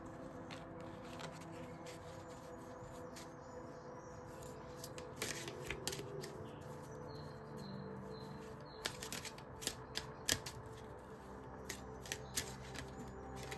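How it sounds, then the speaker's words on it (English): Oracle cards are shuffled and drawn by hand during a tarot and oracle reading, with soft papery riffles and crisp flicks building into a quick cluster of snaps near the end, close and fairly quiet. "Let's pull another oracle card."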